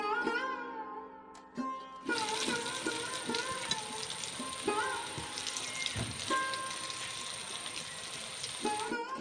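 Fish fry together in oil in a kadai, giving a continuous crackling sizzle broken by repeated close clicks and scrapes of a utensil, with a voice heard briefly at the start.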